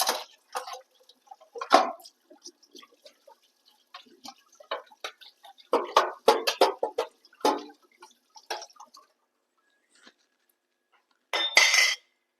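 Irregular clatter of dishes and utensils clinking and knocking in a sink, in scattered bursts with quiet gaps, ending in a louder rattle.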